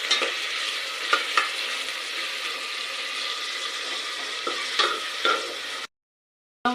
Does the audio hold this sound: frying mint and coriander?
yes